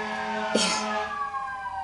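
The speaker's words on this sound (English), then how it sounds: "sorry about the sirens, I live in town centre." A wailing emergency siren sweeps through, loud and moderately near, over steady traffic rumble in a town street.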